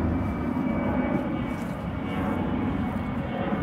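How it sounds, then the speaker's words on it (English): An airplane passes overhead on an overcast night, a steady broad engine roar holding at the same level throughout with no talk over it. "Plane."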